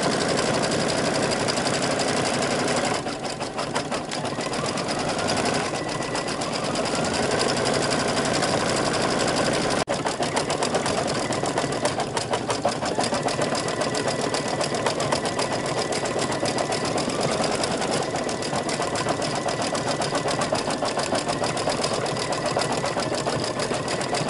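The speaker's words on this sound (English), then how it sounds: "So if you hear your machine doing that, don't worry about it. It's just minimizing the density of stitches underneath" An embroidery machine stitches a merged design without a break, its fast mechanical chatter and motor hum steady and loud throughout, close by and with no other sounds.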